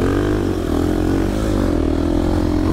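A motocross dirt bike engine revs steadily in the desert near Dubai, a continuous close, loud droning buzz that holds throughout with slight pitch swells.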